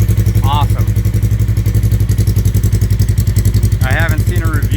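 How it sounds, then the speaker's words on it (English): A 2015 Polaris RZR 1000 side-by-side fitted with a Bikeman Performance slip-on exhaust runs steadily, a loud, close, rhythmic engine drone throughout, with a man's brief speech over it. "Slip-on Bikeman Performance 2015 RZR 1000. Sounds pretty good."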